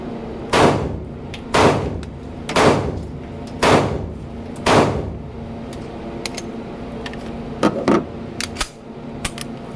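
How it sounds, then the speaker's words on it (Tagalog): Shots from a Taurus G3 Toro pistol ring out at a range: five loud, evenly spaced reports, then a quicker cluster of three more, each with a short echoing tail. "Paputukin pa natin siya guys. Firing!"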